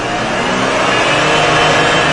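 A car engine revving as throttle is added during fuel pressure regulator diagnosis, a loud, close, sustained roar holding steady for about two seconds with no talk over it.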